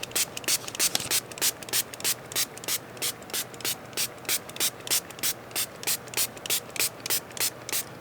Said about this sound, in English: now I'm going to spray this with water